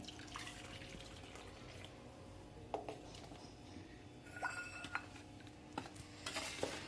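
Quiet stirring of chakli flour mixture in a bowl, with soft scraping and a few light clinks of a utensil against the dish.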